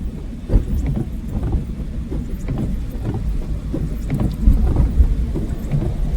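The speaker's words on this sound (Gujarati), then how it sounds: "વરસાદની જરૂર હતી ને વરસાદ આવ્યો." Heavy rain pours down with deep rolling rumbles of thunder, a dense continuous wash of low roaring noise throughout, loud and close with no voices.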